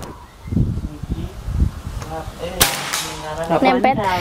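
A sharp, sudden crack of an FX Crown PCP air rifle firing during long-range accuracy testing cuts through ongoing talk, followed by a faint metallic ring of the target being hit; people speak before and after.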